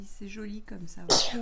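A single sharp, breathy sneeze bursts out near the end of a short stretch of French speech from a child at a drawing lesson.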